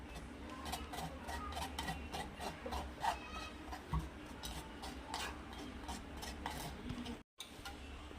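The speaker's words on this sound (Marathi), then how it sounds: "आता आपण गाळून घेऊ याला ते जाड जाड आहे ना का छान असं गाळून घ्यायचं आहे" Thick tamarind and jaggery chutney is strained through a sieve, making a steady, quiet rubbing and scraping sound with soft repeated taps, briefly cut near the end.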